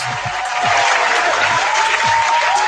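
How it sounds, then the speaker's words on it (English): Continuous applause-like crowd noise played back during a live electronics install session, a steady wash with no speech, while a faint tone drifts underneath. "I'm going to still shower you with applause."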